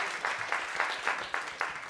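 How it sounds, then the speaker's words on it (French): Audience applause at a prize-giving ceremony, steady clapping with a regular pulsing surge roughly every quarter second, moderately distant, no speech over it. "on les applaudit encore très fort"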